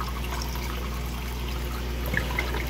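Water siphoning back through the hoses of a homemade sand filter, a steady low gurgling flow with a constant hum beneath and a few faint drips near the end.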